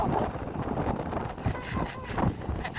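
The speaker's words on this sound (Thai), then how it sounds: "เหมือนตัวจะลมพัด เหมือนจะไปกับลมนะคะ" Strong wind gusts during a rainstorm in Phnom Penh, a continuous broadband rush and buffeting on the microphone, with a voice faintly audible through it.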